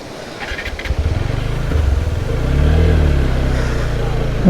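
A motorbike being parked at Darjeeling's Rock Garden gives off a steady, close low engine rumble that swells and deepens midway before easing off, with no talking over it.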